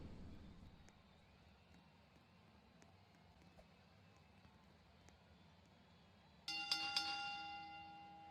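A wrestling ring bell rings out at a live pro-wrestling event, several bright metallic dings arriving suddenly and ringing on over a quiet crowd-room background.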